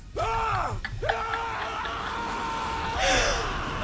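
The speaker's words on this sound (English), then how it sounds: "That scream!" An anime character screams during a JoJo's Bizarre Adventure: Battle Tendency fight scene, a loud, strained vocal cry with a couple of sweeping outbursts over background noise.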